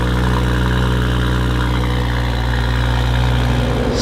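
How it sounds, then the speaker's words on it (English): A Toyota Supra with a new exhaust idles loud and close with a deep, steady rumble and a throaty exhaust burble throughout. "I can't believe it sounds so good"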